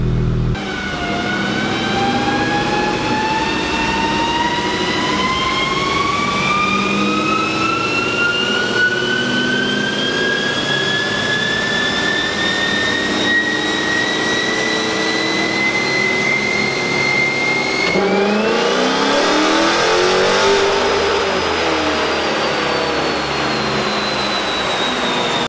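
A 2019 Hemi 5.7 V8 with a K&N cold air intake revs in one long climb, its whining tone rising steadily, then jumping and dropping away as the revs fall.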